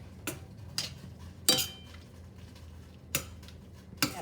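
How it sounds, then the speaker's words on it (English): A utensil scrapes and knocks in a skillet of chicken, bow tie noodles and broccolini, about five short separate clinks and scrapes with quiet gaps between them. "And now I'm going to give everything a real good stir."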